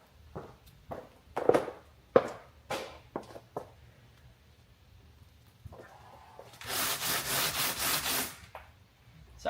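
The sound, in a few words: sanding body kit by hand with 60 grit sandpaper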